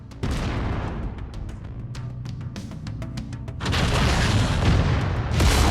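In MechWarrior 5, mech weapons fire at a center torso in a rapid run of booming shots, followed by louder sustained blasts and explosions, dense and close.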